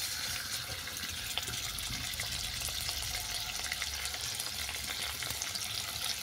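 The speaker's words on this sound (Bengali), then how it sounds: "তেল গরম হয়ে যাওয়ার পর তুলে দিচ্ছি চিকেন কিমা" Chicken mince dropped into hot white oil in a wok fries with a continuous, even hiss and crackle that holds steady from start to finish.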